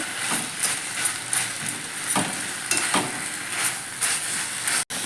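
Chopped onions sautéing and being stirred in a pan for Tamil-style chicken curry, a steady sizzling hiss with periodic scraping stir strokes, close and alone.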